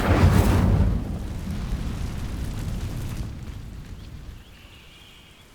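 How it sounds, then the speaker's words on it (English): In Hogwarts Legacy, the Incendio fire spell ignites dry vines: a loud, whooshing burst of flame flares up at once, then a roaring crackle slowly fades into a quieter rumble. "These dry vines are one spark away from becoming kindling."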